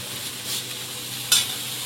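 Spice masala fries with potatoes in a pan for a chicken biryani and is stirred. A steady close sizzle holds throughout, broken once by a single sharp scrape of the spoon, with no speech.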